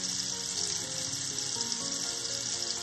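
Cajun-seasoned shrimp fry in a pan, a steady, close, bright sizzle with dense crackling spatter and no talking.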